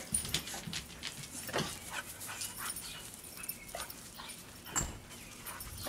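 Dogs around a newly built wooden dog house, heard as scattered soft whimpers, yips and panting at close range, steady and low in level with no talk over them.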